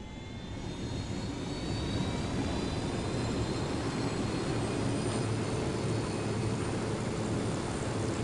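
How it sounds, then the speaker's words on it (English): A helicopter spins up in the game Ghost Recon Wildlands, a loud steady turbine whine and rotor roar with rising high tones running throughout. "Helo spinning up."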